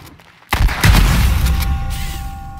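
A loud shotgun blast in the online battle game H1Z1 (King of the Kill mode) hits sharply, then a booming, ringing decay trails off for a couple of seconds.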